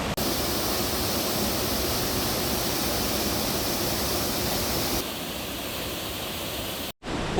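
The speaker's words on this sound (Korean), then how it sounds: "11시 30분이 되면 높이 45m의 폭포가 운하변에서 장관을 이루며 쏟아집니다" A wide artificial two-tier waterfall, 45 m high, pours into a canal beside a bike path, producing a steady, loud, full roar of falling water that continues without a break until a brief cut near the end.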